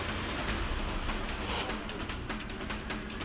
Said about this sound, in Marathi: अमरावतीमध्ये काल मध्यरात्री मुसळधार पावसानं हजेरी लावली.